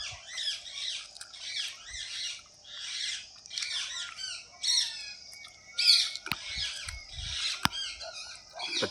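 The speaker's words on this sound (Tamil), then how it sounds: "பச்சை கிளி." Green parrots by water call over and over in harsh, chattering squawks, fairly close, with two sharp clicks near the end.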